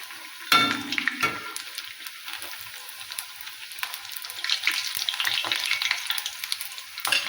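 Nippattu rice crackers fry in hot oil, a sharp splash and burst of sizzling as a piece drops in, then a dense, crackling bubbling that swells and continues up close without any voices.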